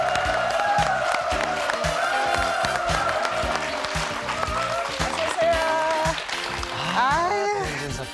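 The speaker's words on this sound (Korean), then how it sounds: "여러분 큰 박수로 환영해 주십시오" A Korean TV studio audience applauds to welcome a singer, steady clapping mixed with bright band music and a few whoops that carry on to the end.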